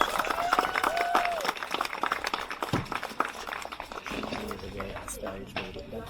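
A crowd at a pinup pageant raising awareness for sarcoma applauds a contestant: a dense, steady patter of clapping with scattered whoops and voices mixed in, continuing throughout.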